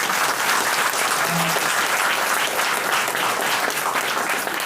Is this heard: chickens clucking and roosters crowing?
no